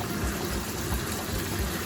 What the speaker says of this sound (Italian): E a questo punto mettiamo un po' di acqua di cottura